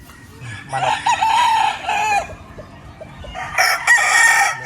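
A gamecock rooster crows loudly twice, long strained calls with a short pause between, close by over a faint background murmur.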